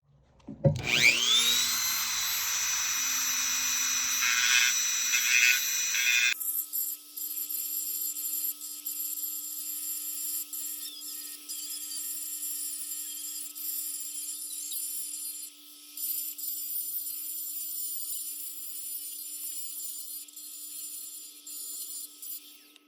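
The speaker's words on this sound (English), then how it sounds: "after just using the Dremel even a little bit, it's doing a real good job of beveling the edge" A Dremel rotary tool grinds and bevels the edge of a Benelli M4 shotgun's loading port, a high-pitched whine starting loud and steady, then turning thinner and quieter with brief dips in level.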